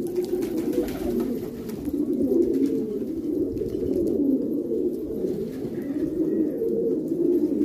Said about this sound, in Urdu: اس میں پکڑ کے کافی بیٹھے ہوئے کبوتر۔